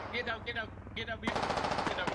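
Sniper fire in a military shooter game, a hilltop position shooting at soldiers: a sharp loud crack at about 1.3 seconds that sets off a dense burst of rapid gunfire, after a commentator's voice talks over quieter game sounds.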